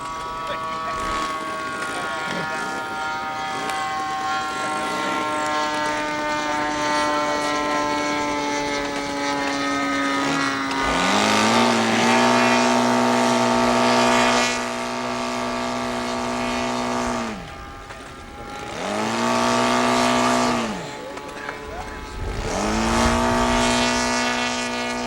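An RC model airplane engine drones steadily at a park air field runway on a breezy day, its pitch dipping and rising several times as the throttle is worked while the plane turns and lines up; someone talks over it.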